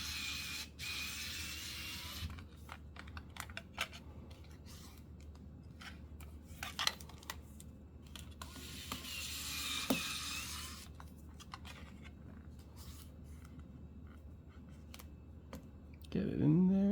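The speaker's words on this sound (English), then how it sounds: "you take this new cover, line it up, and just screw the screws in." Small screws being driven into a replacement Nintendo 3DS shell, heard as close, faint clicks and scratchy ratcheting turns spread across a quiet stretch, ending with a louder handling rustle.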